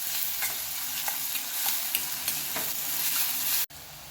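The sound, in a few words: onion sautéing in a pan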